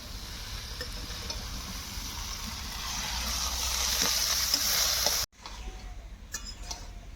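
Vegetables sautéing for khichuri with ginger paste and green chili, a steady close sizzle and soft stirring scrapes that swell slightly before cutting off abruptly, followed by faint clinks.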